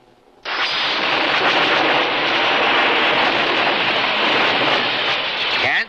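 A sci-fi weapon fires in a space battle, a sudden loud roaring blast that starts abruptly and holds as a sustained wash of noise for several seconds before cutting off.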